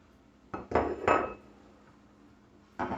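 A metal lid clanks back onto a pot of boiling pasilla and ancho chile sauce, producing a few sharp, close metallic clatters and scrapes followed by quiet, then another clink.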